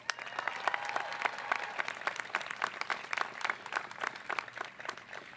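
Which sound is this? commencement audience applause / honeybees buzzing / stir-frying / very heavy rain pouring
commencement audience applause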